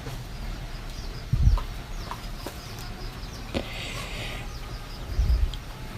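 Local chickens on a small farm that also keeps turkeys and ducks, with a couple of low thumps and soft clucks over a steady outdoor background.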